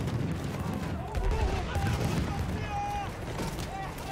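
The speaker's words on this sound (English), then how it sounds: "this thing gotta stop shooting at me" Gunfire in the Battlefield 1 video game, a steady wash of rapid shots and distant booms during a campaign battle, continuous and moderately loud beneath someone talking throughout.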